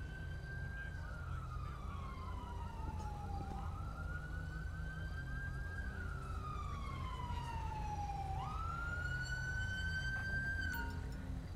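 A police siren from a GTA LSPDFR patrol game wails in long rising and falling sweeps over a low engine rumble, heard steadily throughout at moderate level during a code 3 response.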